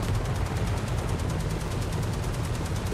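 Warhammer 40k video game gunfire rattles in a steady, rapid automatic stream, loud and unbroken throughout, with no talking over it.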